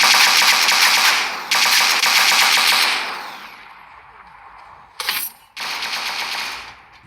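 Machine gun fire in a video game, loud sustained bursts that fade to a quieter stretch, then a sharp single blast followed by another long burst.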